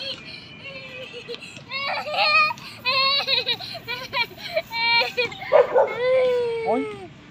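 A dog in a park barks and yips in quick excited bursts, some rising into whiny whimpers, fairly close, with a few gaps between volleys and no clear talk.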